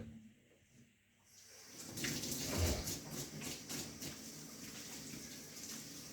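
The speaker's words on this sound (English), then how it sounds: "let me wash my hand one more time" Hands being rinsed under a running tap while making sauerkraut, a steady close splashing water stream that starts after a quiet moment and continues throughout.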